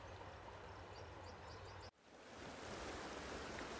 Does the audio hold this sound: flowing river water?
yes